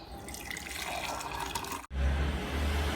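Boiled butterfly pea flower water is poured through a strainer, giving a steady close splashing and trickling stream with a brief pause before the flow resumes, heavier and fuller.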